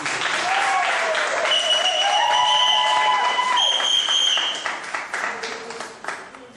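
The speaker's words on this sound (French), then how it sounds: "Applaudissez pour maman Jésus." Wedding guests at a civil marriage ceremony applaud the mother, a steady crowd of clapping with cheers and a whistle, loud and sustained before tapering off near the end.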